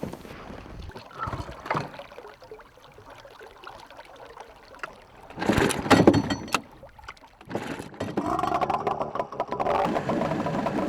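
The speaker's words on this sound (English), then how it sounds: "We sailed down the river with two boats" Two boats moving along a river in the Siberian taiga, with water sloshing and splashing against hulls and a low engine hum; surges of louder water noise come and go.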